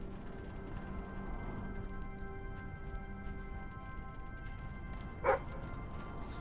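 A dog barks at a dig spot in the Fable 3 video game, one short distinct bark over a faint steady game hum and soft background tones.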